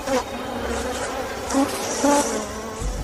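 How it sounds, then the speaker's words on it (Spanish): A swarm of mosquitoes buzzes continuously up close, a dense whining drone that rises and falls, with no voices. "los mosquitos se multiplicaron como el polvo"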